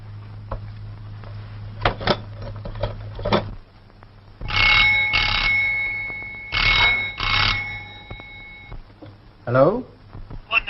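An old telephone rings in short bursts, the bell sounding twice in clear pairs amid a black-and-white drama scene, with brief talk and background sounds around it.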